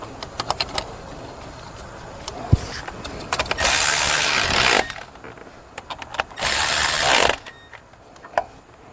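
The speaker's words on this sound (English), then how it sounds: "So now I am going to tighten the fuel rail bolts." A ratchet clicks in quick bursts while fuel rail bolts are tightened on an Audi Q7 3.0L engine, with two longer runs of dense rapid clicking amid scattered tool taps, close up.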